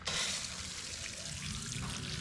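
Water rinses a wheel indoors at low pressure, a steady close stream of trickling and splashing that runs throughout the short stretch.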